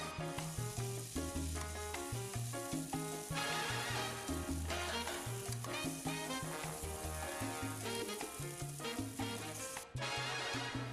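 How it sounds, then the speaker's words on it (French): Chicken shawarma meat sizzles in a very hot pan, a continuous hiss running steadily beneath loud, prominent background music for the whole stretch. "Je vais passer à la cuisson qui va durer 5 à 6 minutes de notre viande dans une poêle bien chaude"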